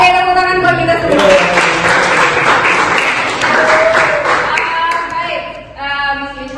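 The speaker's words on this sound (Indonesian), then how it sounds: "tepuk tangan buat kita semua." A classroom of young pupils claps together during a morning lesson, a burst of applause lasting several seconds with the teacher's voice heard over it before and after.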